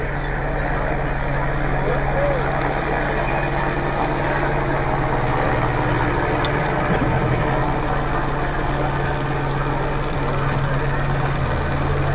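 Continuous low rotor drone of a helicopter, steady and fairly loud throughout, with no pauses.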